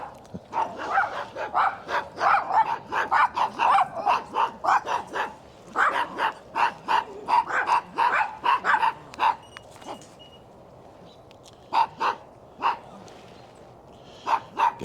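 Several small dogs, including a Shih Tzu mix, barking at an RV campground, with rapid loud clustered yaps for about ten seconds, then a pause and a few scattered barks.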